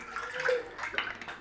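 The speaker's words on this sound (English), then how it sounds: "water in your pan" Water runs into a pan for blanching chicken, a steady close splashing, gurgling pour lasting a second and a half.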